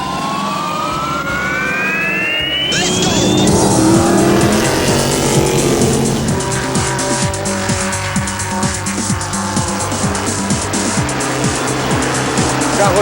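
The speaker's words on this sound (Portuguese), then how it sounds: "Carro 85 de Fernando Barros e Fábio Steinbruch brigando muito pela liderança da categoria" Classic Formula Classic race cars scream past on a circuit, engines rising and falling in pitch as they pass close by, overlapping with other cars' roars, with no talk over them.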